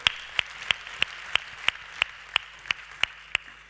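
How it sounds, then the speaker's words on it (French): A single pair of hands claps in a slow, even rhythm, about a dozen crisp claps over faint room hum at a business awards ceremony in Puy-de-Dôme. "On peut l'applaudir, bien sûr."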